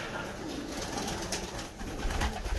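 Racing pigeons in a breeding loft coo in soft, low bursts against a steady background hiss, with the cooing growing a little stronger toward the end.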